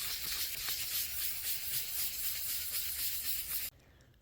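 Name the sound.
sanding car body clear coat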